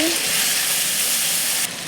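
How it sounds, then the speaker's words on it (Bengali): Pointed gourd pieces frying in a little oil with salt and turmeric in a wok give a loud, dense, steady sizzle up close that drops slightly near the end. "কড়াইতে সামান্য তেল দিয়ে কেটে রাখা পটলগুলো এখন আমি লবণ হলুদ দিয়ে এগুলাকে ভালো করে একটু ভেজে নেব"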